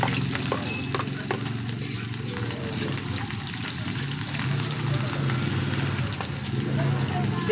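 Garlic and onion sauté in a hot pan with a steady, close sizzle, the frying continuous throughout with occasional stirring scrapes; a voice talks intermittently over it.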